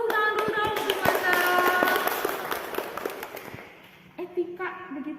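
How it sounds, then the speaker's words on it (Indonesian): A vocational high school class claps in a classroom, with a burst of sharp handclaps mixed with voices that fades into quieter talk. "Tepuk tangan dulu dong."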